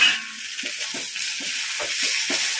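Stone-ground masala sautés in a pan for egg curry, giving a steady soft sizzle with a series of brief stirring scrapes at a regular pace, close and moderately loud.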